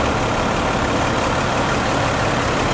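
A fire engine, Engine 13, idles with a steady, continuous broadband rumble that stays loud and unchanging throughout, with no voices over it.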